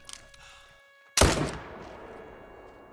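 A single sharp rifle shot at a goat in the hunting game theHunter: Call of the Wild, a loud crack with a long echoing tail fading into quiet outdoor ambience.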